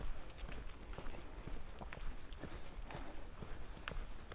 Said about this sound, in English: And more horses. More horses.